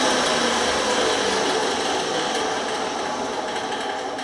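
A tool shaves wood to fit a thwart knee for an Acorn dinghy build, giving a steady, loud grinding rasp that continues without pause and eases off slightly toward the end.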